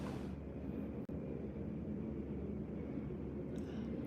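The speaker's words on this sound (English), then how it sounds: "y'all hear that airplane?" A steady, distant drone of an airplane passing over near Wright-Patterson Air Force Base, a continuous low roar with one brief dropout partway through.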